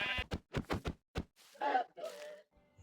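Sheep bleating in a Minecraft survival game, a few short bleats in quick succession followed by softer game sounds, fairly close and loud with no talk over it.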